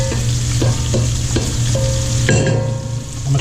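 Shell-on shrimp frying for paella, a loud, close, steady sizzle with intermittent stirring scrapes and a sharper clatter near the end.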